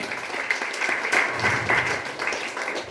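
An audience applauds steadily at a public event honouring a mission's founder, a dense wash of many hands clapping at moderate loudness for about three seconds, with no clear speech over it.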